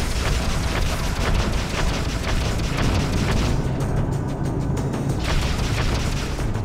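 Space combat in the Freelancer game with the Crossfire mod, torpedo explosions and weapon fire rumbling as a dense, continuous roar of booms with no pause across several seconds.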